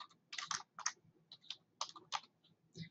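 Computer keyboard keys clatter in short bursts of quick clicks with brief pauses between, close and fairly quiet, as a folder name is typed.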